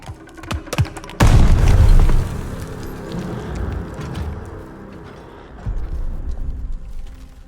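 A grenade goes off in the Call of Duty Vanguard video game, a loud, close, deep boom that erupts suddenly, holds heavy for about a second, then rolls into a long rumbling tail with scattered debris and distant battle noise.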